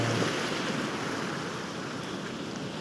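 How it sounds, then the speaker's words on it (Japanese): Rough winter waves break against a rocky shore at a fishing spot in Ibaraki, a steady broadband wash of surf with wind, fairly close and continuous, with no voices. "でもな、波がすごいからな。"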